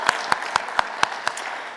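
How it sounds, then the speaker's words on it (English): Audience clapping for high school participants at a college business innovation competition, heard as six crisp, evenly spaced claps in a steady rhythm, moderately close and fairly quiet with no talking. "Let's give one more round of applause for our high school participants tonight."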